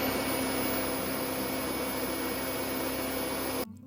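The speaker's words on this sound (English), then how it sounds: "Next we have the brush bar. Now the customers said that this is loud." The brush bar of a Dyson DC25 vacuum cleaner running loudly, a steady, dense roaring whine with a faint flutter, which cuts off abruptly near the end.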